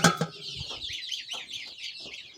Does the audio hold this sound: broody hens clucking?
yes